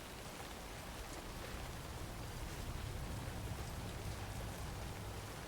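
Steady, even rain in the Alan Wake 2 video game at night, a constant hiss of falling drops on surfaces with no voices, moderately soft throughout.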